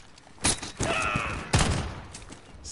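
Gunfire in a shooter video game: a few loud, close bursts of rapid shots separated by short gaps, with a metallic ring and thuds trailing off.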